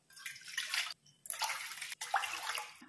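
Water poured in bursts for a sweet semiya dish, three close splashing pours separated by brief pauses, quiet and with no talk.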